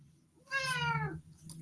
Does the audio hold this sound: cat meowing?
yes